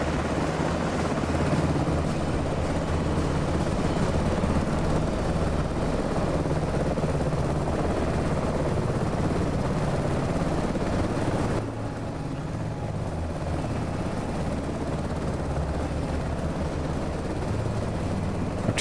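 A CH-47 helicopter in Microsoft Flight Simulator 2024 gives a steady, continuous rotor and engine drone that holds at an even level with no talk over it.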